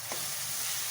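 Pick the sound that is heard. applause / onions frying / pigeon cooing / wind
onions frying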